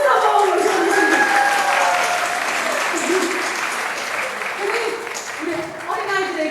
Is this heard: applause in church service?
yes